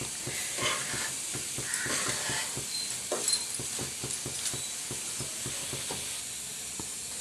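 Ragi flour upma premix with fried spices and onions sizzles in a pan, a soft steady hiss broken by quick, regular scraping taps of the stirring spoon, heard alone at a close, quiet level.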